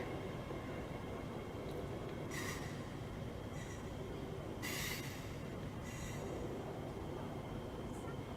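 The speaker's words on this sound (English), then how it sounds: "right now we just saw the first train right now departed" The first Hong Kong high-speed rail train departs Shenzhen North station, a faint, steady rumble of wheels on track with several brief high squeals and hisses.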